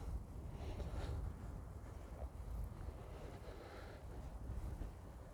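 A soft, steady rush of wind moves through Leafeys Wood, faint and distant, with a low rumble and gentle swells and no voices.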